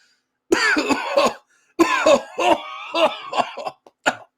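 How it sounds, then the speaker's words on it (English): A man coughs hard in repeated ragged bursts, loud and close, with short gasps between fits and no other sound around him. "he just keeps coughing kind of hard"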